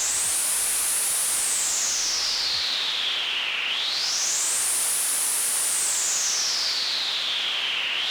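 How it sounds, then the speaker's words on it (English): Loud, steady white noise from a homemade synthesizer circuit, a dense hiss filled by a slow sweeping filter that rises and falls in pitch, playing alone without talk. "I fixed up the white noise on the TTO"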